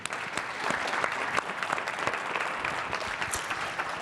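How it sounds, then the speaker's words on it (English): Sustained audience applause at a Cap Times Power Hour event, a dense wash of overlapping claps that holds at an even, fairly loud level throughout. "we're going to give the applause to you"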